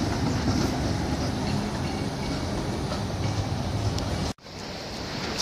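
Train at a railway station in Gothenburg, Sweden, a loud continuous rolling rumble with clattering wheels that briefly drops out near the end before resuming.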